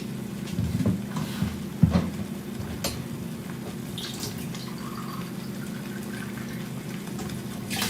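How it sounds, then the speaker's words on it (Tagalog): Water heats in a pot on a home kitchen stove while a meal of eggplant and chickpeas is cooked, giving a steady bubbling hiss with a few sharp clinks near the start and no voices. "Mag-boil ako ng tubig kasi kailangan natin maglagay ng tubig dito sa niluto natin."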